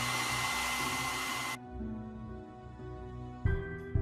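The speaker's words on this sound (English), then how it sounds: "When the mud is all over the lower hull, hit it with hot air to evaporate the solvent." A hot air blower runs on mud paste coated over the lower hull of a tank model, a steady loud rushing hum that cuts out abruptly, then restarts with a low whirr.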